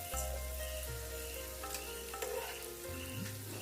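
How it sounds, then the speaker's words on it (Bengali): Green peas fry in hot oil over a high flame, giving a continuous close sizzle with light stirring and a low steady hum underneath; no one talks. "এই তেলেই এবার আমি ভেজে নিচ্ছি অল্প মটরশুঁটি।"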